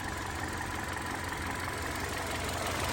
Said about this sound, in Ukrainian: ну двигун у нас працює